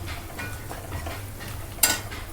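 Oggarane tempering for tomato bath sizzles steadily in a pan, with soft stirring and utensil scrapes and one sharp metallic clink near the end.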